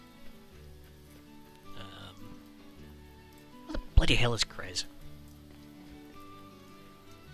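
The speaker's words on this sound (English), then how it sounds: "Kinda just want to stay in the rain right now." Rain patters softly and continuously in the video game Harvestella beneath quiet game music, while someone talks over it in a short, louder burst.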